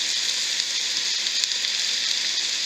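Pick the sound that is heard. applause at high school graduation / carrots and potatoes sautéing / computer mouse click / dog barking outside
carrots and potatoes sautéing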